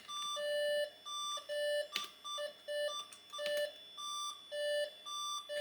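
Slot 1 PC motherboard alarm beeping in quick alternating tones, soft and continuous, with a couple of faint clicks or knocks among the beeps and no voices.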